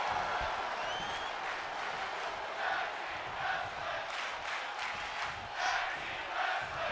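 Virtual arena crowd in a wrestling video game, a continuous wash of cheering and applause that swells in repeated waves over a steady roar.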